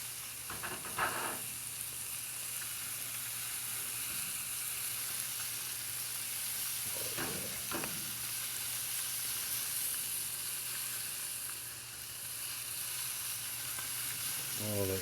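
Lamb chops sizzle on a grill while being basted, a steady crackling hiss running throughout with a few brief louder bursts of spatter and scraping, and no voices heard.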